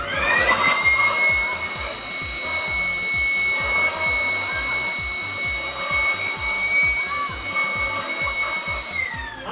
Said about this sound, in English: So now when I blow air here, there is low pressure area here, and the ping pong balls are being stuck into the pipe and flying up